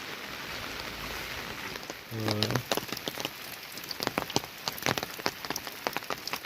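Heavy monsoon rain pours steadily in the Konkan countryside near paddy fields, a dense constant hiss of drops on surfaces with scattered louder splatters and drips, and a brief low thump partway through.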